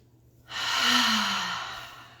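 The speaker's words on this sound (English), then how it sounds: "Should we take a deep breath?" A single deep breath, drawn in and released as one long, soft, airy exhale lasting about a second and a half, close and clear with no talking.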